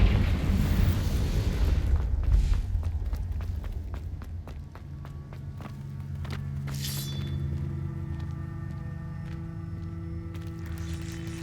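Confringo blasting spell in the video game Hogwarts Legacy: a loud, booming explosion with crackling debris opens the clip, then fades into a lower rumble and scattered small impacts, with no talking.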